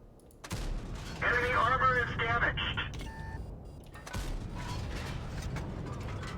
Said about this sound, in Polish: Przynajmniej dwa strzały w grilla weszły, to jest ok